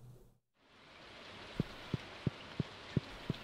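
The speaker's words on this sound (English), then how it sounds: "How can it be raining over here but not on the island?" Steady hiss of rain falling in the farming game Stardew Valley, rising after a brief silent gap and continuing evenly, with a series of soft regular low thumps repeating about every third of a second.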